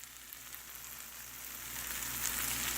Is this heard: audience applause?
no